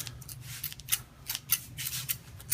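Scissors snip repeatedly through plastic packaging to open a boxed Miktek Procast SST microphone at a desk, a series of crisp, close cuts with short pauses between them.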